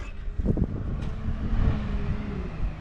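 A car drives past a pond on a warm day, a steady broad rumble and road hiss rising slightly mid-pass, with a little wind over the microphone.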